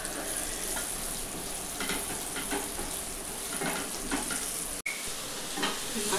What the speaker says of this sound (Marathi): अशी चांगली आधी फ्राय करून घ्यायची।